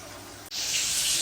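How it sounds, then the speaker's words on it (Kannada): Water rushing into a home aquarium during cleaning, a soft hiss that suddenly swells into a loud, steady spraying gush after a brief break, heard up close. "ಇಲ್ಲಿ ಇದರಲ್ಲಿ ನೀರು ಬರ್ತದೆ ಸಹ ಹೋಗ್ತದೆ ಸಹ"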